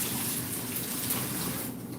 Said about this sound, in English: But you just want to get the hot water off of your noodles because they'll continue to cook